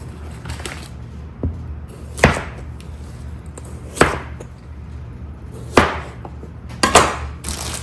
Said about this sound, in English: Dicing them up in fours.